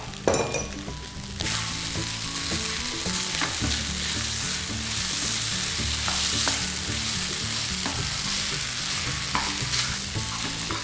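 Sago pearls fry in oil in a pan, a steady hiss of sizzling under repeated scraping and clinking strokes of a spoon stirring through them.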